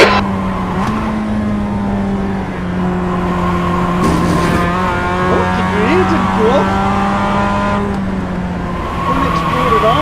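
Race cars in a video game with loud engines that hold steady, rev, and shift, with tire noise, while a voice talks over the engine sound.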